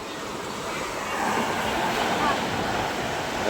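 Big sea waves crash and wash continuously at the Julugan fish terminal in Tanza, Cavite, a loud broadband roar that swells gently throughout.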